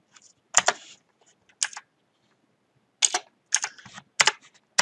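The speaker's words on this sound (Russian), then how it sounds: "Ну, наводим мышечкой и просто пишем, что нам надо." Short bursts of close keystrokes on a computer keyboard, clicking in quick clusters separated by brief pauses, with no voice present.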